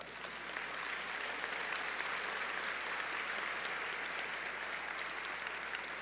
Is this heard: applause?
yes